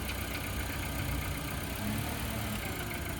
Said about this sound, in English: Noise that you heard was the car pushing the jump box out of the way